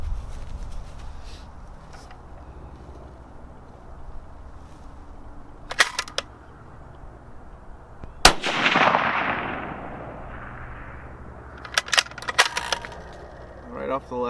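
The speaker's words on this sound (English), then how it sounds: "let's take a couple more shots out to 650," Precision rifle shots from a custom Bergara B14 HMR in 6.5 Creedmoor fired off a tripod at a 650-yard range, several sharp reports spread across the stretch, one loud crack near the middle trailing into echo, others fainter, no talking.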